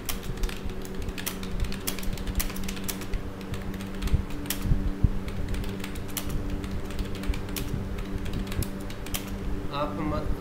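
Rapid, steady clicking of a computer keyboard as Hindi text is typed in Mangal font using the InScript layout, the keystrokes close and continuous over a low background hum.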